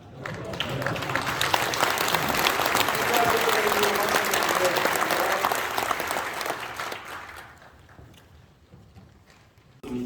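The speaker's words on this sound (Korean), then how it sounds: "다 몰아서 박수 한번 치시고." A church congregation applauds together during a ceremony installing a new association president. The clapping swells and stays loud for about six seconds, then fades to scattered claps and murmuring voices before a short burst at the end.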